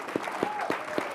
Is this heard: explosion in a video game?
no